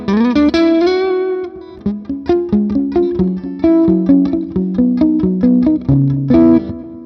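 An electric guitar plays a crunchy tweed-mode tone through the Amplitube 5 Mesa Boogie amp, with a sustained chord followed by a rhythmic run of picked, slightly distorted notes, loud and close with no talking.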